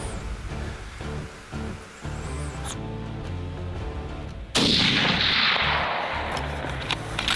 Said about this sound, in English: After getting a shot off at 250 yards, the bear runs off into the brush.